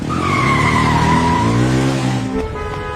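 A car brakes hard with a long, loud tire squeal close by, the skid tone sliding down in pitch for about two seconds before cutting off.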